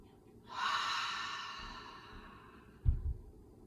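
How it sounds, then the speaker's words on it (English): A deep, audible breath pushed out through the mouth at the close of a yoga session, a long airy exhale that swells and then fades, with a soft low thump near the end. "And we'll end our practice together today by taking a deep inhale. Exhale through the mouth."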